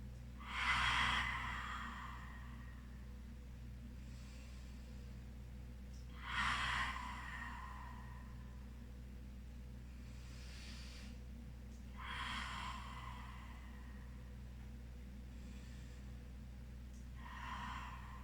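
Slow, deep breaths are held through a calming yoga pose, each one a soft, airy rush with a slight snort, spaced about every six seconds and heard close against a quiet room hum.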